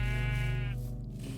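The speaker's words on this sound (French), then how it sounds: "Il y a des moutons, ça c'est bien." Sheep bleat in a Minecraft-style survival game set in a hardcore world, a single drawn-out wavering call heard clearly and close with no talk over it.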